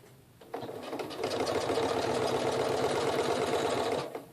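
A Janome Skyline S7 sewing machine stitches through luster vinyl with a steady, fast mechanical whir that starts abruptly, holds evenly at close range, then stops near the end.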